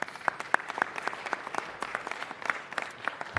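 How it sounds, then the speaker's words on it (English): Audience applause at a city council meeting, a steady spread of many hands clapping with sharp individual claps standing out, moderately loud and continuous throughout. "Let's give him a round of applause."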